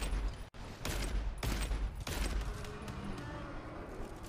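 Gunfire in a video game sounds in a quick series of sharp, loud shots, four or so bursts over a few seconds, followed by a low fading rumble with no talking.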